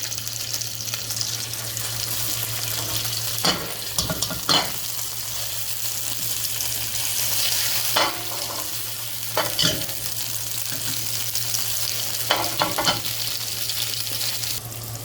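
A Texas BBQ burger patty topped with barbecue sauce fries in a pan, giving a steady close sizzle under a low hum, broken by a few short clatters and scrapes; no voices.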